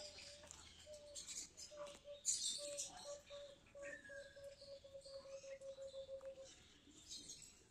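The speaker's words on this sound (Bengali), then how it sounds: "পাখি ডাকছে গুগু।" Birds call in a garden aviary holding doves and parakeets, with a steady run of repeated notes near and moderately loud, mixed with brief chirps and background rustle.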